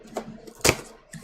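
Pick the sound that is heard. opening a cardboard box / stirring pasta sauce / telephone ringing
opening a cardboard box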